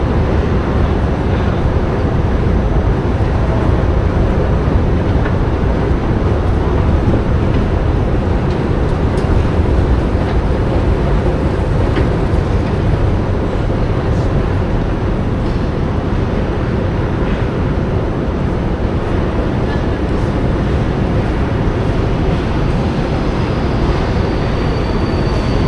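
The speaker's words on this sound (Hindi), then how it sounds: "ट्रेन एक तो आ गई है" A metro train arrives at a Budapest station as a loud, continuous rumble and roar that fills the whole stretch, steady and close, with no talking.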